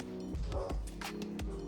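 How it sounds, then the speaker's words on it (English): A few quick, faint dog barks or yips in the background, spaced irregularly over a low steady hum. "Excuse if you hear my dog barking."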